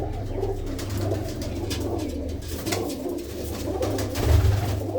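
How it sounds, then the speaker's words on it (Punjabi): Dark red Cheena hobby pigeons coo steadily in a deep, rolling murmur, with several birds overlapping close by and no one speaking. "ਇਹ ਆ ਤੁਹਾਡੇ ਸ਼ੌਂਕ ਦੇ ਲਈ ਕਬੂਤਰ"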